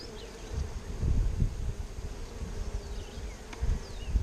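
Honey bees buzz around a hive frame during a beekeeping split, a close, steady droning hum with swelling and fading passes as individual bees fly near, no talk.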